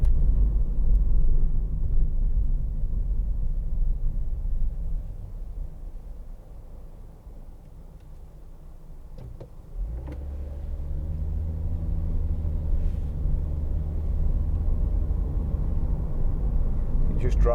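2014 Honda Jazz 1.4 i-VTEC CVT engine while driving, a steady low rumble from the cabin that dips slightly and then swells again as the car pulls harder, with faint road noise throughout.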